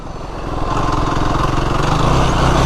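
A Yamaha YFZ 450R quad engine runs at low RPM, close and loud, with a steady rumbling pulse that rises slightly and holds without a break.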